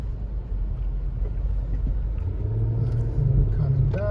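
A 2022 Nissan Murano being driven, a steady low engine and road rumble from inside the cabin with some wind noise, rising slightly toward the end.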